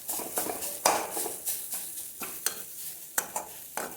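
Vegetables sautéing in coconut oil over a low flame, a soft hiss beneath repeated brisk spatula scrapes and light clinks against the pan, close-up and without voices.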